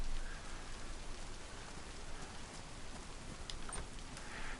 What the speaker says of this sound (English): It's bloody raining hard again.